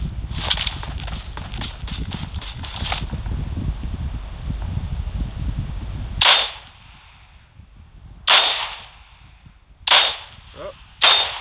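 Gunfire in the mobile battle-royale game PUBG Mobile: a quick string of rapid cracks opens, then four separate loud single shots ring out at uneven intervals, each with a short decaying tail.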